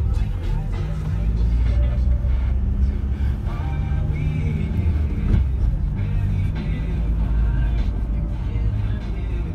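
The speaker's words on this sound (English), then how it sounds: "Getting one bus on video, might as well." A Stagecoach bus in its new livery drives past close by with a loud, continuous rumbling engine and road noise that swells and fades, among general street traffic.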